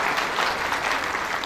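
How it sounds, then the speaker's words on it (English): Dense, steady audience applause fills a convocation hall at Uttar Pradesh Technical University's KEC ceremony, many hands clapping together without a break. "give a big round of applause to them"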